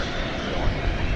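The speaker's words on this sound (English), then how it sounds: "It's a 777 arriving from Toronto." An Aerologic Boeing 777 jet arriving at DFW Airport from Toronto gives off a steady, broad engine roar, fairly loud and unbroken through the short moment.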